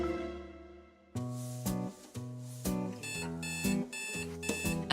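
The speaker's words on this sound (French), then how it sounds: "avance son réveil à 6h tous les matins" A morning alarm clock rings with a loud, electronic melodic tone in repeating phrases, beginning abruptly after a fading note and continuing steadily nearby.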